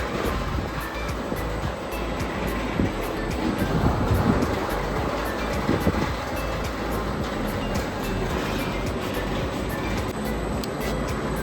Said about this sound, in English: This is the converter of the rotary drum.